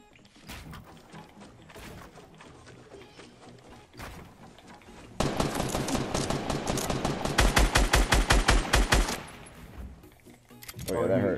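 Rapid automatic gunfire bursts in a Fortnite duos match, with scattered shots at first and then a loud, sustained stream of fast rounds lasting several seconds before it stops.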